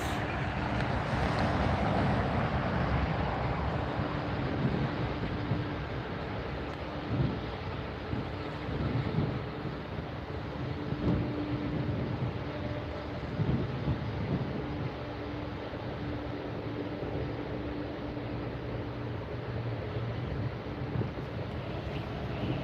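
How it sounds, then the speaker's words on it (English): Jet aircraft engines roar steadily at LAX airport, a continuous broadband rumble with a low hum as planes taxi close by, without speech. "Listen to those engines."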